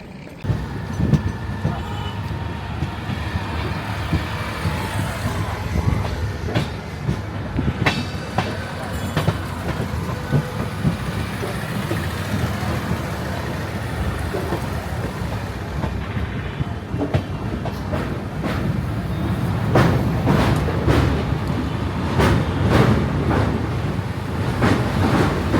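A train near Bagdogra station rumbles with clattering wheels and metallic rail noise, loud and continuous, growing busier toward the end.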